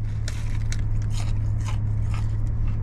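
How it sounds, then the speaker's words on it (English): Crunching on hot, crispy McDonald's food, a dense, steady crackle of chewing heard up close over a constant low hum, with no talking. "Mmm, you hear that crunching?"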